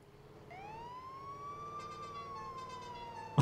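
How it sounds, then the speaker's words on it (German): Rising emergency vehicle siren from a large fire or rescue truck in Landwirtschafts-Simulator 19 (Farming Simulator 19), sounding during a harbor flood deployment; a steady wailing tone swells up and holds loud and near, ending in a sharp thump. "Schöne Sirene."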